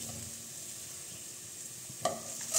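Garlic seasoning frying in a thick pan for rice with no added fat, a steady faint sizzle with a few light stirring scrapes and a brief louder clatter near the end.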